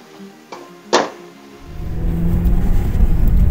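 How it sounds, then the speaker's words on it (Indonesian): A 2008 Toyota Yaris S Limited with automatic transmission sets off on a test drive, a couple of faint clicks giving way to a rising low engine rumble and road noise that steadily builds. "Oke, sekarang kita tes drive dari Toyota Yaris ini."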